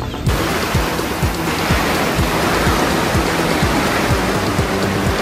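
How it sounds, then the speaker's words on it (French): Steady, heavy rain hisses continuously, with a low rumbling wash underneath like gusting wind as Hurricane Beryl approaches the Caribbean, with no voices. "le vent commence à se lever, début d'après-midi, la pluie commence à tomber"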